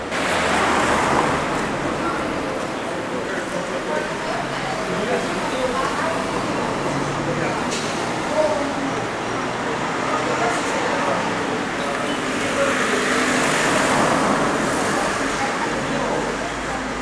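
Car traffic passes along a Venice street as a steady roadway rumble and wash under continuous close talking, with no single vehicle standing out.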